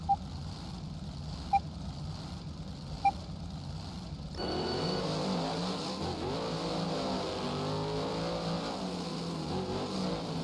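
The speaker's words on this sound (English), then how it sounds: "Coming roaring down into the stadium." Monster truck engines roar at a freestyle event in a Nashville stadium during the World Finals, a dense loud rumble that swells and holds steady after a few sharp knocks, with no voices on top.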